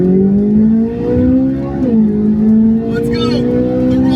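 A Corvette C8 Z06 and a Rivian truck accelerate together in a roll race, with a loud, steady engine drone that rises smoothly in pitch, heard from inside the car.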